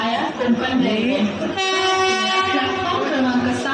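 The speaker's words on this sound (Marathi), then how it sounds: "आता ट्रेन आमची आलेली आहे." A train horn blares loudly and steadily for a couple of seconds amid rumbling rail noise, with people talking around it.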